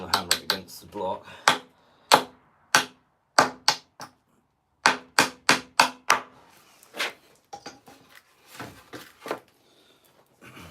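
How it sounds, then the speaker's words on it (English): Sharp, regular knocks of a wooden pallet striking a wooden block, a dozen or so hard hits in steady rhythm, close and loud, with brief pauses. "I'll hammer it against the block."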